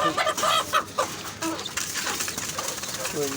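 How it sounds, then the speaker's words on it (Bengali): Hens clucking among pigeons at feeding time, a close series of short, rhythmic clucks and bird calls throughout, with a person talking faintly in the background. "মুরগিটা সবসময় খালি বের হয়ে যাইতেছ"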